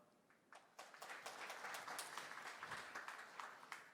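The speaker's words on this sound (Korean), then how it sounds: "다시 한번 큰 박수를 부탁드리겠습니다." A forum audience closing a session on advanced intelligent robotics breaks into steady applause that swells after a brief start and holds at moderate volume in a large hall, with no talk over it.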